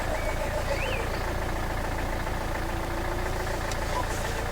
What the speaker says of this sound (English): We do still have a slightly rough idling.